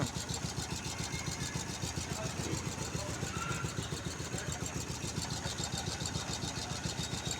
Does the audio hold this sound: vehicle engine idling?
yes